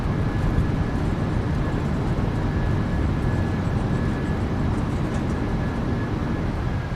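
Thrust reversers of a PMDG 737-800 after landing in MSFS2024: a steady, loud broadband jet roar with a faint whine, continuous and unbroken throughout.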